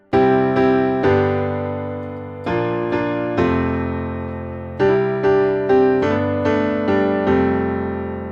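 Piano plays split-triad voicings from a song intro, transposed to G: clear, close chords struck in a syncopated pattern, each ringing and decaying before the next, with no talking.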